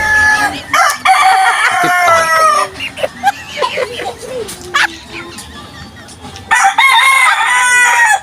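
A rooster crows loudly and close by several times, with chickens clucking between the crows.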